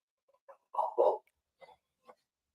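A dog barks in a handful of short bursts, with two louder, close barks in the middle and fainter yelps before and after, and no talking over it.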